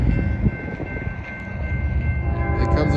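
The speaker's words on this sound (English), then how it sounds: "Here comes a train." Union Pacific freight train passing close by with a long sustained horn blast over the rumbling, clattering rail cars.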